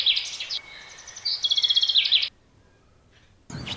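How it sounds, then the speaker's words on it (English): A bird calls in rapid, repeated high chirps and trills for about two seconds, then goes quiet before a brief new burst of sound at the end. "bird"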